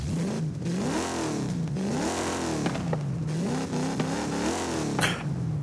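A car engine in the video game Forza Horizon 5 revs up and down repeatedly in rising and falling sweeps, loud and continuous, with occasional clatter and gear shifts.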